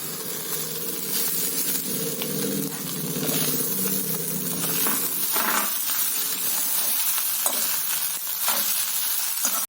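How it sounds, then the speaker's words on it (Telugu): Rice frying in a pan with coconut and turmeric for coconut rice, a steady hissing sizzle with scraping stirring strokes, close and even throughout. "కొబ్బరి వేగింది. 1 కప్పు రైస్ వేస్తున్నాను."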